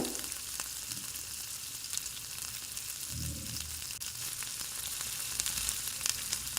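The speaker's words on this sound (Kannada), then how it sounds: "ಈರುಳ್ಳಿ ಚೆನ್ನಾಗಿ ಫ್ರೈ ಆಗಿದೆ" Onions and curry leaves fry in a pan with a continuous crackling sizzle, with a soft stir partway through and faint scattered pops, no one speaking.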